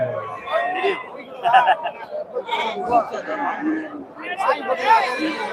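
A goat kid bleats at the Friday goat market in Ettayapuram, its short calls rising out of constant crowd chatter and nearby talking voices.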